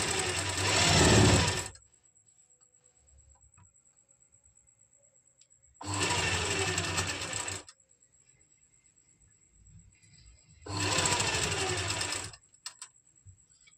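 A sewing machine stitches a piping strip all around a kameez, running in three steady bursts of about two seconds each, separated by quiet pauses.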